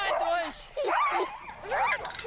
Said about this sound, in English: The strong dogs that are placed directly in front of the sled are called wheelers.